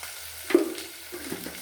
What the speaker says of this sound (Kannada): ಈ ಎಣ್ಣೆಯಲ್ಲಿ ಈ ಕುಂಬಳಕಾಯಿ ಬೇಯ್ತಾ ಏನಾಗುತ್ತೆ, ಸಾಫ್ಟ್ ಆಗುತ್ತೆ